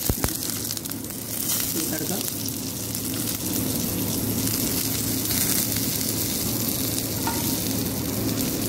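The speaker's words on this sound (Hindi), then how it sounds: "अभी ये तड़का इसका ऊपर डालेंगे," Hot tempering oil with garlic sizzles loudly and steadily on bottle gourd raita after a quick initial splash, a dense crackling hiss that continues throughout.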